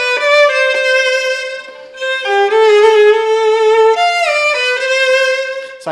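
Solo viola playing a phrase from the Vanhal viola concerto with a written-out embellishment, sustained bowed notes with a quick ornamental trill figure, close and clear with no talking.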